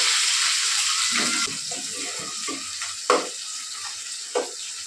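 Onion frying in a kadai for bitter gourd curry, a soft background sizzle that drops slightly partway, broken by a few brief stirring knocks, two of them sharper near the end.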